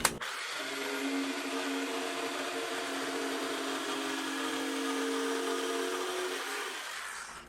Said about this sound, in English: now I'm going to cut out the square here with the jigsaw